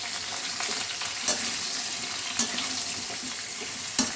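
Ridge gourd pieces with salt and turmeric are stirred and fried in a pan, a steady low sizzle broken by a few sharp scraping clinks of the spatula.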